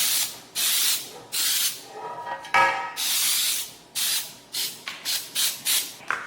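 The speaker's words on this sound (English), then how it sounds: "Here's our loaf pan. I'm going to spray it." Repeated short bursts of cooking spray onto a loaf pan, about ten hissing blasts of varying length in quick succession, close and fairly loud.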